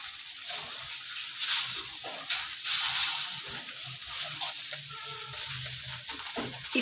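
A potato-stuffed paratha brushed with ghee cooks on a pan over a low flame, giving a steady, soft sizzling hiss throughout with faint background clatter and no speech.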